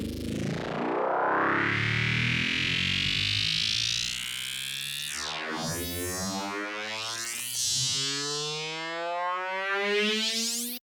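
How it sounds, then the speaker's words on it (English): A synth tone made in Serum 2 sweeps steadily upward four octaves as a riser, thick with harmonics, then wobbles and swoops through distorted, warbling bends before settling into a buzzing tone. "I'm going to turn this into a riser. And we're just going to have this rise 4 octaves over that period."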